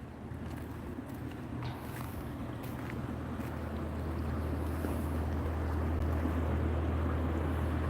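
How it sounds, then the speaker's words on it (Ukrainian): Steady rushing water at a pond in Ukraine roars as a broad, continuous wash close by, growing slightly louder toward the end, with no voices. "Шумить водичка."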